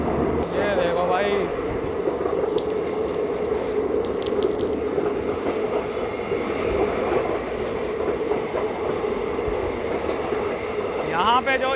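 A diesel DEMU passenger train runs on the Katra-Badgam rail route near a tunnel, with a continuous close rumble of wheels and carriage noise and some screeching squeals and clatter, while people talk over it.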